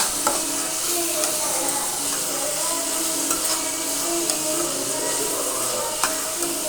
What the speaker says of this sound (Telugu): యాడ్ చేసి బాగా ఫ్రై చేసుకుందాం.